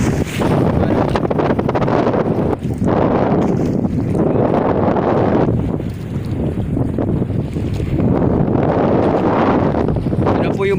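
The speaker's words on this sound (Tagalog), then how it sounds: "Lumakas na naman po ang hangin." Strong wind buffets the microphone in loud, roaring gusts that rise and fall on a fishing boat at sea, with a hint of water and boat noise beneath.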